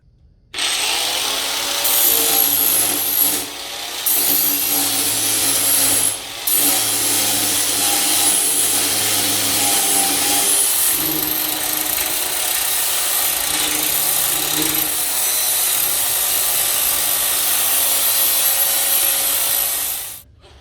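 Stone grinder or flap wheel smoothing the edges of a custom tail light for a 1979 Shovelhead build, a loud continuous abrasive whine and rasp with two brief dips, close and steady throughout.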